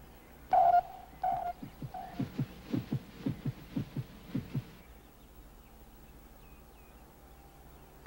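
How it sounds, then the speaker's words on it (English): A steady, soft, rhythmic thumping like a heartbeat comes from a recovered capsule, about a dozen evenly spaced low pulses after a few brief tonal beeps, then fading into a faint hum. "there's a sound coming from it. It's just like a heartbeat."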